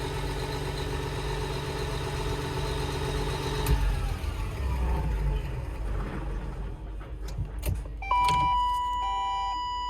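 Diesel engine on a machine idling steadily with a low rumble, then switched off partway through so the drone cuts out, leaving quieter clicks, beeps and electronic chimes near the end.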